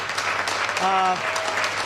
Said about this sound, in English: now you can see some claps going out. People are clapping.